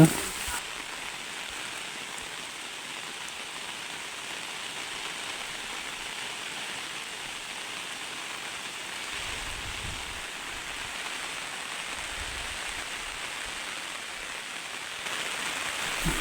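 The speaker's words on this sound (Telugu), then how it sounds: "నాన్ స్టాప్గా అయితే వర్షం పడుతూనే ఉంది" Heavy, non-stop rain pours down in a village, a dense steady hiss of falling water that stays constant and fairly close from start to finish, with no talking.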